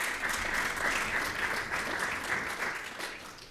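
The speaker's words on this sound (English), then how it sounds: "And so that deserves some applause as well." A conference room full of people clapping steadily at CPAC 2015, a dense, even patter of applause that holds for a few seconds before tapering slightly.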